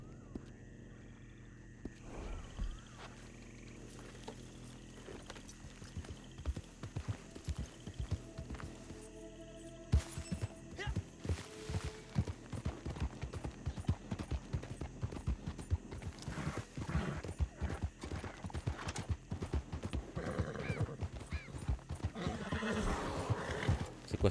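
A horse in a video game, with clip-clopping hooves and neighs over game music and effects, the hoofbeats growing busier and louder toward the end.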